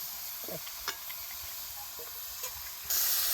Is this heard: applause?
no